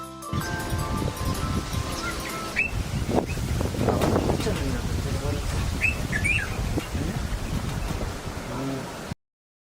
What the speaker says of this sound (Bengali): বয় বুলবুলি